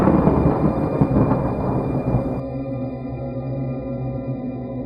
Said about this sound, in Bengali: আর ঠিক তখনই আকাশে ভয়ঙ্কর বজ্রপাত হলো।